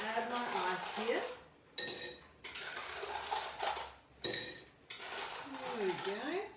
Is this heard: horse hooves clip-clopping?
no